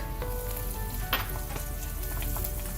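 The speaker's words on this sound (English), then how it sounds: "Cook it on low flame till the raw smell of that ginger garlic goes" Ginger garlic paste with turmeric, cumin and coriander powders frying with onions on a low flame for Kerala beef chukka gives a continuous close sizzle, with a brief stir-like clatter partway through.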